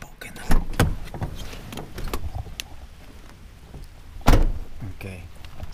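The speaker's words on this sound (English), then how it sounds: "I'm gonna go open the door of my truck very quiet without a spook." A pickup truck door is eased open quietly outdoors, giving a couple of soft clunks and latch clicks over a low ambient background.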